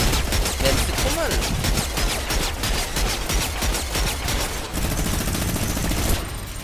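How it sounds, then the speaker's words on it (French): Sustained rapid fire from a turret in Fortnite, a fast, unbroken rattle of shots that keeps going for several seconds, close and loud, easing briefly before resuming. "C'est quoi qui tire là? C'est la tourelle là."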